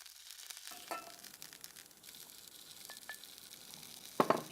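Onions frying in a pan for soya haleem with red lentils, a steady close sizzle and crackle with a few clinks and a louder scrape of stirring near the end.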